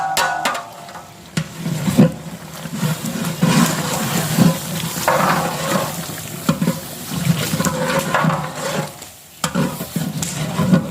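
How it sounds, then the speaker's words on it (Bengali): Rice stirred into simmering meat broth in a pot while cooking khichuri, a steady wet scraping and sloshing with bubbling sizzle underneath, continuous and close with brief pauses. "চাউল নাড়া দিয়ে মিশিয়ে দেওয়া হবে মাংস ঝোলের সাথে"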